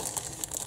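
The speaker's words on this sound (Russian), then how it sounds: "вот пакетик с траками" A small plastic bag holding separate tank-track links from a 1/35 Meng ZSU-23-4 Shilka model kit crinkles up close, giving a brief run of light, irregular rustles and crackles.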